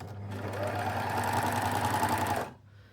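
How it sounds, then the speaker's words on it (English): Overlocker stitching a gathered waistband onto a dress, a close rapid mechanical chatter running steadily for about two and a half seconds before stopping. "you just overlock straight off"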